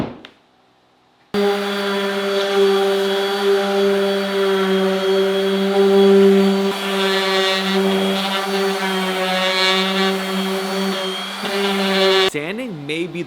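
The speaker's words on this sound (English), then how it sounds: "I'm gonna set up a sander and make this thing look pretty smooth" A power sander runs steadily and loudly on wood for a barn door, with a constant whine and grinding hum, starting abruptly after a brief quiet moment and stopping near the end.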